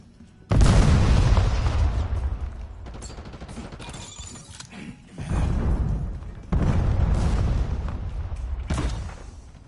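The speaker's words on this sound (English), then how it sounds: "Incoming frag!" A frag grenade goes off in Call of Duty Black Ops, followed by further blasts: three heavy, booming explosions a few seconds apart, each with a deep rumbling tail, close and loud.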